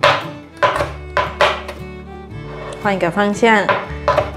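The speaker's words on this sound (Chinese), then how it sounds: "现在把辣椒切碎" Knife chopping chili peppers on a cutting board, a few distinct close thunks spaced through the clip, while a person talks over them.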